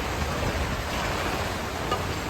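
A dense, constant roar of heavy rain fills the clip, loud and unbroken, with no talking.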